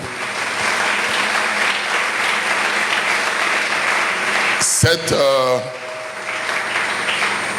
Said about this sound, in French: La sœur Rachel peut se tenir debout et nous allons l'acclamer.